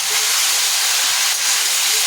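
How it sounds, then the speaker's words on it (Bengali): Cauliflower fries in a pan with turmeric and salt, making a loud, even, close hiss of sizzling oil that stays constant throughout. "ফুলকপিটা এখন ভালো করে ভাজা হচ্ছে"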